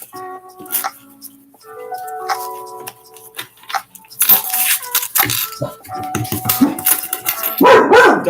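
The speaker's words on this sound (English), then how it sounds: "Dog." A dog barks in short bursts, loud and close, between stretches of quiet tonal ticking and clatter, with the barking rising in the second half.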